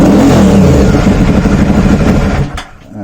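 An Aprilia Shiver 750 motorcycle engine revs hard and steadily, loud and close, then drops off sharply toward the end as the throttle closes.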